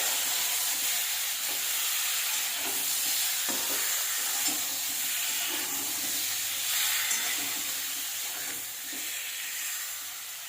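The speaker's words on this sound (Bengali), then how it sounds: "দিয়ে দেবো ধুয়ে রাখা চিকেনটা এটা ভালোভাবে ভেজে নেব তেলের সাথে" Washed chicken pieces frying in hot oil in a pan with bay leaves, a loud continuous sizzle and hiss with stirring scrapes swelling and easing throughout.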